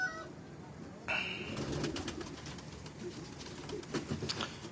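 Pigeons of a rare breeder strain, a pair kept at home, give soft low cooing in the background, faint and intermittent under steady ambient noise.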